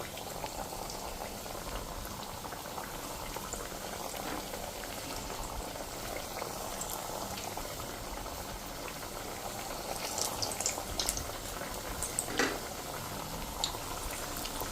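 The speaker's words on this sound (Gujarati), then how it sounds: "તો આ રીતે આપણે એને ફ્રાય કરી લેશું." Sorghum flour fritters, five to seven at a time, fry in hot oil over a medium flame, giving a steady, dense sizzle and bubbling that runs throughout with a few sharper crackles near the end.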